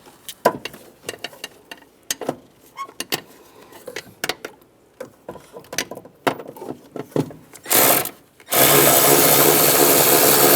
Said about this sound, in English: I'm going to put the nut on down below for the accumulator on the bracket. Tighten that down.